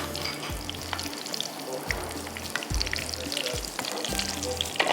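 Something frying in a pan for a saffron porridge trifle, a steady sizzle with a few low thumps as it is moved around, heard alone without talk.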